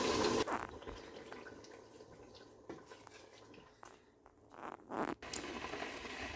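Tinned tomato goes into a pot of egusi soup: quiet wet plops and scraping from the can, with a few clinks of utensil on metal, close and soft, in uneven bursts.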